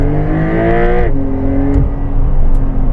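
Porsche 911 (992) Carrera 4 GTS with PDK, 480 hp, accelerating in Sport Plus mode: a loud, rising engine note that drops at a gearshift near the middle, then pulls up again, steady and close with no talking.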